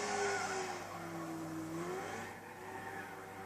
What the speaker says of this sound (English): All you can hear is the tyres scrabbling for grip all the way around.